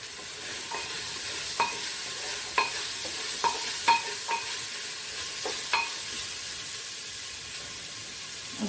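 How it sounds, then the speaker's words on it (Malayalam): Corn and carrot fry in a pan, a steady soft sizzle and hiss with scattered sharp clinks from the stirring utensil striking the pan, close by and with no voices. "Next I'll add corn and carrot."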